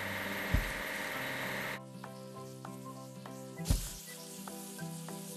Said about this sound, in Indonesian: Ayo cuci gerbong kereta bawah tanah.